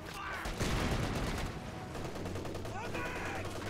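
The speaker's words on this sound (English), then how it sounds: "Look, he's gonna fire his rifle grenade." Gunfire and a rifle grenade blast in the WWII strategy game Company of Heroes 2, during an Axis versus Allies urban fight: dense, loud bursts of shots and booms rolling continuously, with a lower rumbling tail.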